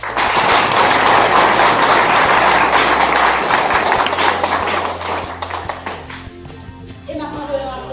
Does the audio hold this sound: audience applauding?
yes